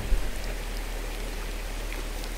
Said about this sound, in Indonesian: Cuaca hujan.